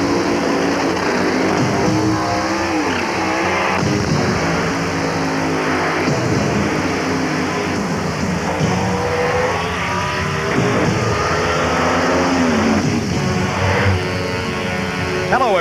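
NHRA drag race cars at Raceway Park roar and rev in a dense, continuous engine din with overlapping passes, loud and sustained under a narrator's voice.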